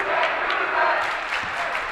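Crowd at a school basketball game, a brief, loud swell of mixed shouting and cheering that stays dense and continuous without a break.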